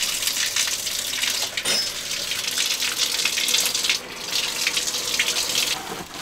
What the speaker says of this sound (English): we go use the shower to wash our hands